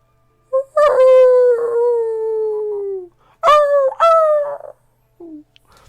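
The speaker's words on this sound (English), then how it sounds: "sounds of howling" Wolves or dogs howl in long, wavering cries, one drawn-out howl followed by a shorter pair of rising howls, then a faint trailing yelp, set as a fantasy tabletop scene's ambience.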